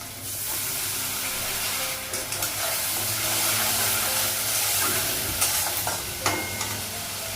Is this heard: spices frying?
yes